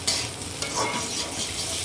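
Chow mein noodles sizzle and scrape as they are stir-fried in a hot pan alongside egg, a brief close burst of frying hiss and stirring.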